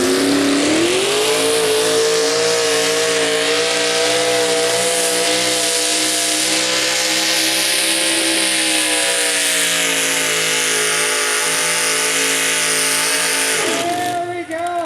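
Super modified 2WD race cars, some with big Merlin engines, race at a Thunder in the Parkland night event: a loud sustained engine roar with a steady high whine and gradual pitch shifts, with commentary over it.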